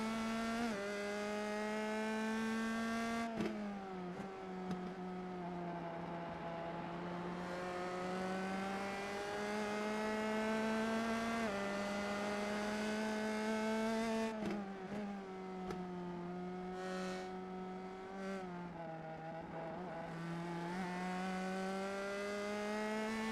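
An iRacing race car whines along a steady engine drone, the pitch rising and falling as it takes the track, with brief jolts where it hits bumps at the transitions between the oval and the banked outfield.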